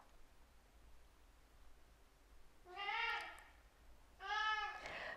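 An old cat meows twice in the background, two drawn-out harmonic cries a second or so apart, fairly faint over a quiet room.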